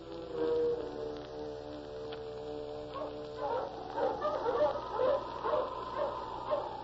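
Husky sled dogs bark in a radio drama sound effect, a few scattered yelps early, then a rapid run of excited barks over a soft steady hiss, moderately distant.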